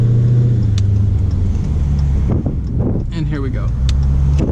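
A Dodge Challenger with an overheating engine rumbles loudly up close and rises under a pull, its deep drone steady throughout while someone talks over it.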